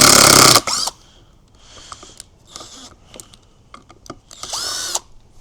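A cordless impact driver rattles in loud bursts while backing a screw out, alternating hammering runs with short pauses and a final longer burst close by, no talk.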